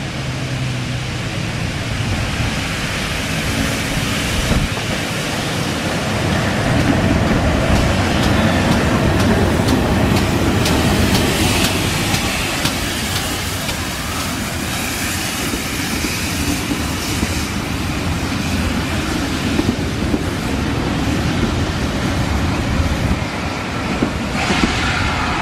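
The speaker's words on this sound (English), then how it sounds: "whilst the train from Lydeard pulls into the platform" A heritage railway train pulling into the Williton platform on the West Somerset Railway, heard as a loud, steady rumble and rush of wheels with faint clicking, close by and continuous for about twenty-five seconds.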